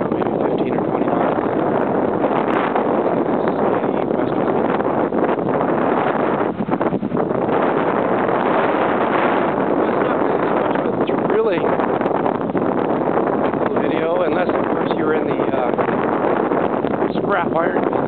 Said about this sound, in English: Bunch of wind coming up now.